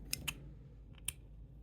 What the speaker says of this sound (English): Now I will cut the thread.